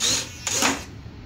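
Small magnets in a spoileron mechanism on a Dynaflite Bird of Time RC glider give a brief mechanical clicking burst, near and fairly quiet, with nobody speaking.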